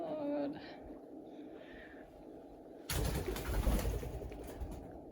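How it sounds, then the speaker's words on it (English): A bird calls briefly and close by at the start, a short chirping burst over a quiet room in an old house in Italy, followed by a loud rustling, clattering noise. "That was a bird."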